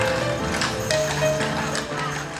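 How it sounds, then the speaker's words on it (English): Draft horse hooves clip-clop on pavement at the Indiana State Fair as entrants line up for the draft horse show, steady close hoofbeats over a busy crowd background. "The clip-clop against the pavement as participants line up for one of the visitors' favorite fair competitions, the Draft Horse Show."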